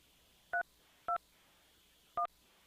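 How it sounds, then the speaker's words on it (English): Three short telephone keypad tones are pressed one at a time to enter a conference PIN. Each beep is crisp and clear, separated by quiet pauses over a faint line hiss. "Please enter your PIN followed by the pound key."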